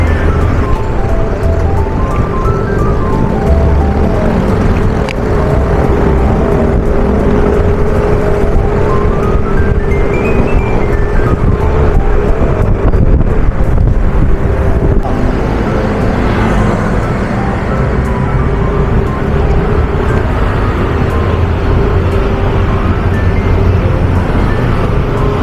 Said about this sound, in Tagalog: Grabe guys, traffic.